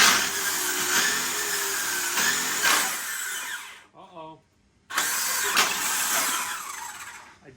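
A Traxxas X-Maxx RC car with rebuilt differentials whines and whirs in loud high-pitched bursts, cutting out briefly to a near-silence with a voice before the drivetrain grinding resumes at full volume.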